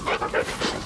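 A dog pants rapidly in the Blair Witch video game, close and loud, with quick rhythmic breaths repeating across the brief moment.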